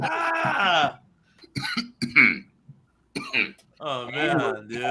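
A man coughs and clears his throat in harsh, raspy bursts with gaps between them, close to the microphone, mixed with vocal sounds.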